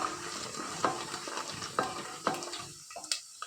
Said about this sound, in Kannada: ಮತ್ತು ಜೀರಿಗೆ ಇವೆಲ್ಲನೂ ಹಾಕಿದ ನಂತರ ಸ್ವಲ್ಪ ಬಾಡಿಸ್ಕೋಬೇಕು.